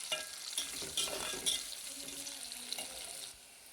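Onions and green chillies sizzle gently in a pan while a spoon stirs and scrapes a few times, fairly close and soft.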